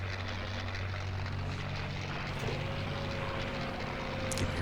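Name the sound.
propeller fighter plane landing in the video game Combat Wings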